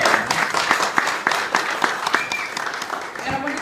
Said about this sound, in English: So I just want to give a round of applause to the Gaskos for contributing.